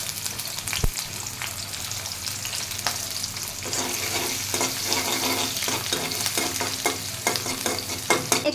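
Garlic frying in a pan with vegetables in a home kitchen, a steady close sizzle with repeated scraping stir strokes and utensil knocks throughout.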